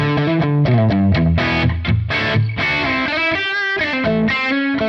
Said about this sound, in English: we're playing this capture test of what we just captured of my Dr. Z Z-Rec Junior amp